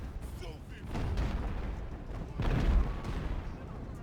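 Mortar artillery fire in the naval battle game Ultimate Admiral: Age of Sail, with deep rumbling booms around 1 second and a louder burst near 2.5 seconds over a steady low battle din, with some voice mixed in.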